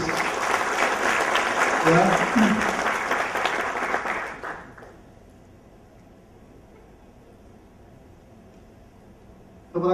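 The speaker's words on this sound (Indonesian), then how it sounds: "Tepuk tangan untuk Cake Indonesia dan Sistem Kis." Seminar audience applause at a motivational event in Surabaya rolls on for several seconds, dense and steady. A speaker's voice cuts through briefly, then the clapping stops abruptly, leaving quiet room tone.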